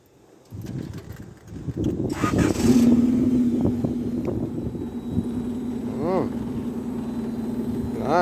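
A 1992–95 Honda Civic EG with its muffler removed cranks and fires up, settling into a loud, raspy idle with a steady low drone and occasional blips of revving, close to the microphone.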